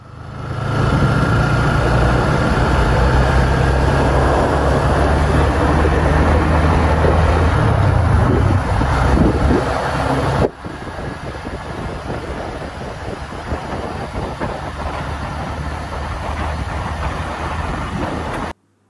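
Yamaha Y15 motorcycle engine running on a test ride after an oil change, a loud continuous engine drone that shifts in tone partway through, then carries on steadily with road noise.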